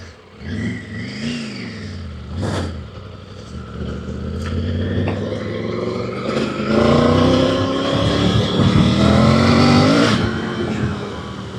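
A 2025 Triumph Tiger 900 Rally Pro motorcycle accelerates hard with a brief wheel spin, its engine note rising and revving loudly and close, climbing steadily through the gears.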